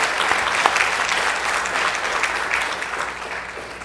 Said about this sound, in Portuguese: Nós aplaudimos a Deus pela vida de cada um de vocês.